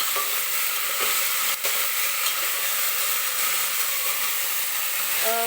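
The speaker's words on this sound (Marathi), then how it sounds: "व्यवस्थित तेलामध्ये 1-2-3 मिनिटासाठी मी परतून घेणार आहे ह्या भाज्या" Vegetables with peas sauté in oil for pav bhaji, a loud dense sizzle running throughout with occasional spoon taps and scraping against the pan; no speech.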